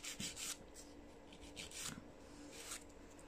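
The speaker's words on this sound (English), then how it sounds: "I'm just using a 180 grit nail file from Tia's Beauty for this." Fingernails being filed with a 180 grit nail file make soft, close rasping strokes in short rhythmic bursts, heard alone and quiet.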